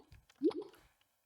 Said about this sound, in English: Just a drip noise.